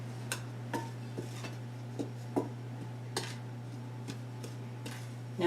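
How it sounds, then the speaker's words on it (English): A utensil stirs dry soda bread ingredients, flour and salt, in a bowl, giving light scattered clinks and scrapes at an uneven pace over a steady low electrical hum. "let's just mix all that up"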